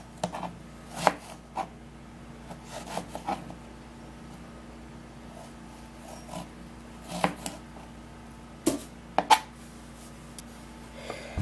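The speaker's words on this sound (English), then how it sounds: "you're going to cut your garden egg into smaller pieces" Sharp knife strokes on a cutting board, irregular and fairly close, with several quick chops clustered together between quieter pauses.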